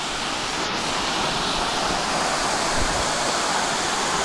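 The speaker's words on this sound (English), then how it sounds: "But I gotta get under the waterfall a little bit." Waterfall at Piney Creek Falls pouring steadily, a dense, loud and continuous rush of falling water up close with no break throughout.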